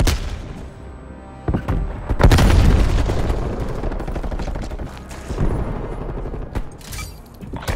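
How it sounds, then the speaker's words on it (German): Grenade blast and bursts of automatic gunfire in the Call of Duty Black Ops Cold War multiplayer game, a loud boom near the middle followed by dense, sustained firing and further sharp shots. "Werfe Granate!"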